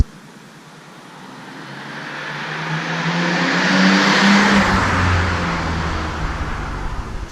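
A Nissan Stagea 260RS Autech with the RB26 engine accelerates hard out of corners, a loud, close engine roar building steadily in pitch and volume, with no talking.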